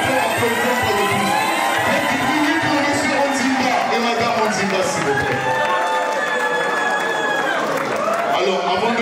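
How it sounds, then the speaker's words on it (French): Crowd applause and cheering from a party audience at a 50th birthday celebration in a hall in Viry-Châtillon, a dense, steady wash of clapping, shouts and voices with some children's cries throughout. "Applaudissez, s'il vous plaît. C'est important d'applaudir pour le plus."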